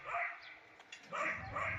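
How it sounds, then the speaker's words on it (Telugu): A dog barks in two short bursts, close and fairly loud, with a brief pause between them. "పాట పాడతా కుక్క ఒకటే అరుస్తుంది"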